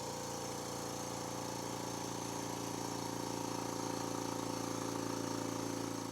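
A California Air Tools 1-gallon quiet air compressor runs about a foot away, giving a steady, moderately loud motor hum with no change or pause from start to finish and no talking.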